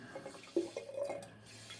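Hot water running from a tap into a container, a faint, close trickle and splash with a low steady hum underneath, no talk.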